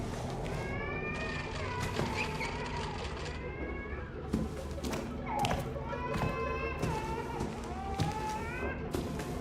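Cats meow repeatedly in The Outlast Trials, rising and falling cries recurring throughout over a steady low game background with soft thumps.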